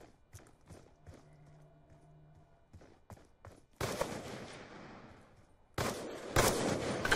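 Gunfire in a shooter video game, a few sharp scattered shots and clicks at first, then two loud heavy blasts with crackling tails, close and punchy.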